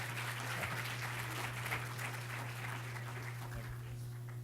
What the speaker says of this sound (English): Once again, can we have another round of applause for Dr.